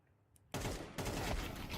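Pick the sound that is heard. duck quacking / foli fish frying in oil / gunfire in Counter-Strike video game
gunfire in Counter-Strike video game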